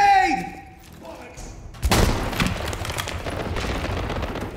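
Grenades detonate in the online shooter World War 3: a sudden heavy blast lands about two seconds in and leaves a rumbling, noisy tail, with a voice talking briefly in the quieter stretch before it.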